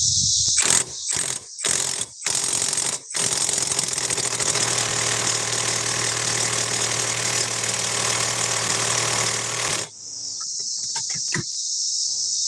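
A Milwaukee 2967 cordless impact wrench hammers at a stubborn bolt that has sat unlubricated. Several short bursts come first, then a long, loud, continuous rattling run ends abruptly, followed by faint clicks.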